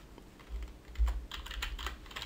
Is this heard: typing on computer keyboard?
yes